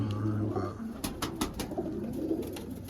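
Pigeons in a hobbyist's loft coo in low, throaty bursts that run on continuously, layered with a few sharp clatters and rustles close by.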